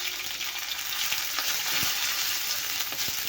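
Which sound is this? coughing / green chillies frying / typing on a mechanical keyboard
green chillies frying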